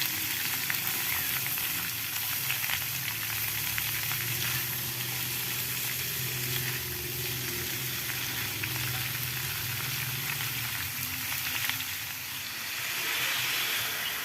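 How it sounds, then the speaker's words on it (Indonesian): Cucumber and egg stir-fry sizzles steadily in a pan, a continuous bright frying hiss with faint scraping stirs, close and fairly even throughout with no talking. "Kemudian diaduk sampai tercampur merata supaya matang sempurna ya."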